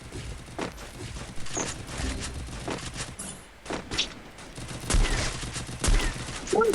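Gunfire in the Free Fire video game during a ranked 4v4 match, with repeated bursts and single shots in a dense, loud stretch, some footsteps and thumps mixed in.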